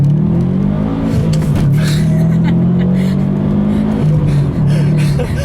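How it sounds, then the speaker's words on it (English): A 2012 Subaru WRX STI Limited accelerates hard from inside the cabin, its engine droning loud and rising in pitch through a gear, dipping at a shift, then pulling again, with faint talk beneath. "One last little acceleration because this car is just too much fun."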